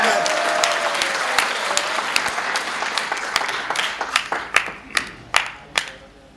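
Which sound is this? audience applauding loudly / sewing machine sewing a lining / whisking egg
audience applauding loudly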